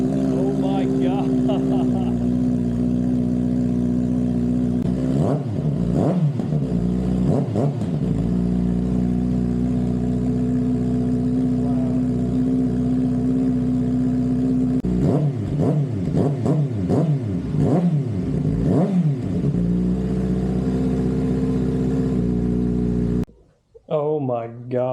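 A 2025 Kawasaki Ninja ZX-6R with a loud M4 aftermarket exhaust, baffle still in, idles with a deep burble, then revs sharply in repeated bursts, close by; a voice speaks briefly at the end.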